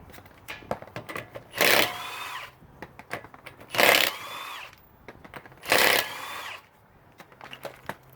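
A power tool, likely an impact wrench or drill, whirs in three distinct bursts of about a second each while taking the wheel and tire off a car, with quiet clicks and handling noise between bursts.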